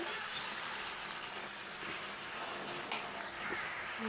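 Jackfruit cooking in a pan with onion and garlic, a steady soft sizzle and frying hiss running throughout, with a couple of brief sharp clinks of a utensil against the pan.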